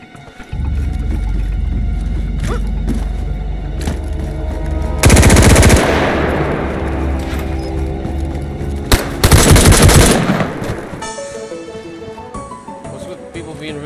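Gunfire in the survival shooter DayZ, with a sustained rapid burst under a low engine-like drone and two louder, close volleys partway through.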